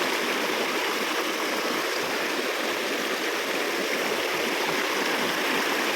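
River water pours through a dam built across the river, a constant dense rushing roar that stays loud and unchanging from start to finish.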